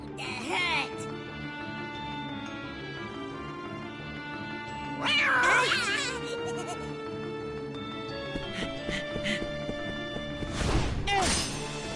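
Cat meowing and caterwauling in a PS4 video game, several drawn-out cries over a steady bed of game music and effects, with louder bursts midway and near the end.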